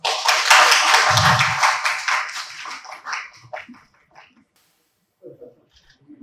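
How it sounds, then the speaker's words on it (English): An audience applauds a product launch at a press meet, a burst of dense clapping that thins out into a few scattered claps, then near silence with some faint murmuring. "It would be great to applaud this historic moment."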